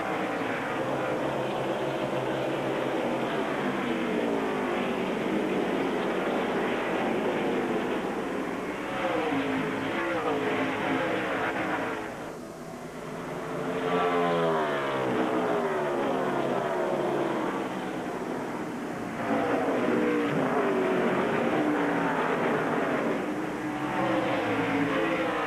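NASCAR stock cars roar past at Phoenix during the 2001 Checker Auto Parts 500, a continuous loud engine drone with repeated rising and falling pass-bys as cars sweep by the stands, commentary faintly underneath.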